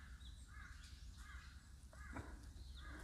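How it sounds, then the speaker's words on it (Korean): A crow caws repeatedly outdoors, several short hoarse calls at moderate distance over a steady low background hum, no speech. "까마귀가 왔네요."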